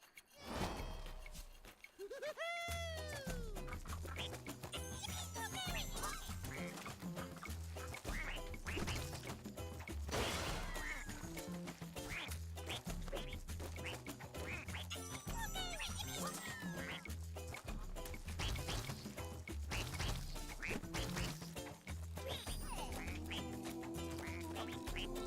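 Cartoon duck quacks from the duck section of the Rayman Legends video game on PC, repeated quacking over busy, continuous game music and sound effects throughout.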